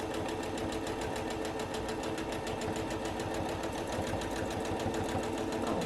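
A sewing machine stitches steadily during free-motion quilting while fabric is moved under the needle. The needle chatters in a fast, even rhythm over a constant motor hum, loud and close, with no talking.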